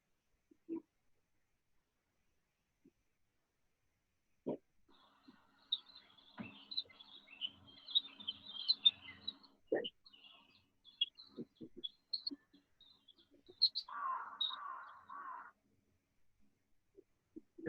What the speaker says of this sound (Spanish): El pajarito, intensidad débil, el tono agudo, el timbre, lógicamente, del pájaro.